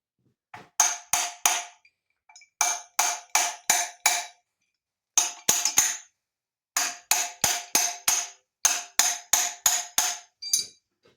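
Repeated metallic hammer taps on a part of a 1948 Case VA tractor engine during disassembly, struck in quick bursts of three to six sharp, ringing blows separated by short pauses, close and loud with no talking.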